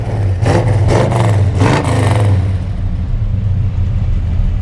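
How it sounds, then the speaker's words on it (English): Loud, close revving from a 1970 Chevrolet Chevelle SS454 with the LS5 engine: two quick sharp throttle blips over a deep idle rumble, which then settles into a steady low idle. "Go ahead and rev it up."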